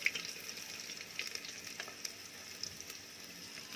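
Asafoetida drops into hot oil already frying bay leaf, fenugreek and chopped green chillies, giving a faint, continuous sizzle with soft crackles and pops throughout.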